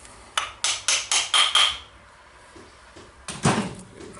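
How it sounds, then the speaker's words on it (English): A series of six sharp metallic hammer taps in steady rhythm, close and fairly loud, followed by a pause and a couple more louder strikes. "then I will hammer it"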